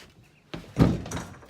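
A door on a paintball truck being built is kicked open: a sharp thud, then a heavier bang and a short rattle as it gives way, close by with no talk.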